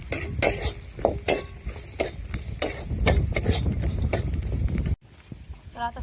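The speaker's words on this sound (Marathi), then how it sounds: "आता ते व्यवस्थित हलवून घ्यायचंय." Torn chapati poha with peanuts is stirred in a pan. A spoon scrapes and knocks in a quick, regular rhythm over a soft sizzle, close and clear, then stops abruptly, leaving a brief quieter stretch.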